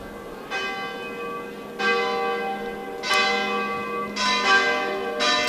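Church bells toll in repeated, ringing strikes with long overlapping decays, clear and fairly near, accompanying a religious procession in the Italian town of Saludecio.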